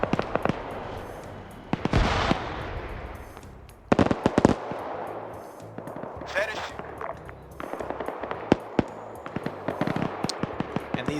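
Bursts of automatic and single-shot gunfire from Arma 3 during a Zeus-run training operation, crackling in rapid volleys and scattered cracks at varying distances, some sharp and loud, with short quieter gaps between exchanges.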